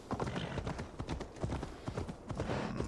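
Horse hooves clip-clop steadily on terrain in Assassin's Creed Valhalla, a fast continuous gallop of close, even beats with no talk over it.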